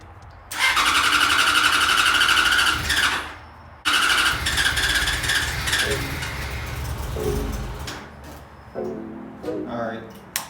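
A motorcycle engine cranks and briefly catches from about half a second to three seconds, then cranks again in a second long attempt that sputters without settling into a steady idle. Squealing mechanical noise and a person talking come in toward the end.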